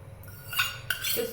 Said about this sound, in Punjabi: ਹੁਣ ਮੈਂ ਇਹਦੇ ਵਿੱਚ ਪਾ ਰਹੀ ਹਾਂ ਦੋ ਵੱਡੇ ਚਮਚ ਮਲਾਈ